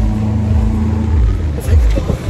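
A motorboat engine drones loudly and steadily while rough water slaps at the bow, with voices underneath.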